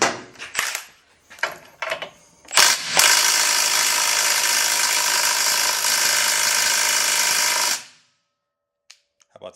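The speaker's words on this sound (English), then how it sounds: "Let's get an impact gun and take care of that and that nut." An impact gun removes a nut on the axle of a broken Harbor Freight floor jack. A few sharp clicks and rattles come first, then one long, loud, buzzing burst of rapid hammering that stops abruptly, leaving near silence.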